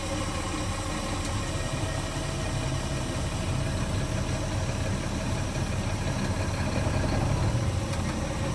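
Heavy truck tractor engine rumbling steadily up close as it pulls away in first gear, a constant low drone that grows slightly louder toward the end.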